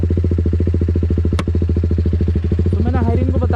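A TVS Apache RR 310 fitted with a loud Yoshimura exhaust idles close up, a deep, steady, rapid thump throughout, with a voice talking over it near the end.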